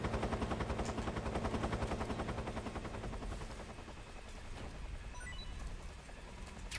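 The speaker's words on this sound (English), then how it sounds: "Uh, helicopter. I heard it." A helicopter in the video game Metal Gear Solid 3 gives a loud, rapid rotor chop that pulses steadily and then slowly fades and thins out, with no voices over it.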